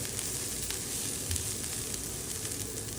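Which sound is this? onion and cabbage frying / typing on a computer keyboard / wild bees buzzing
onion and cabbage frying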